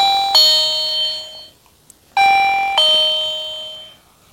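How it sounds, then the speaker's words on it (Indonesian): Electronic motion-sensor guest-greeting door bell playing its first melody: bright, loud electronic chime tones ring twice in succession, each phrase fading out, with a short silent gap between them. "Saya akan menyalakan bel ke posisi melodi 1."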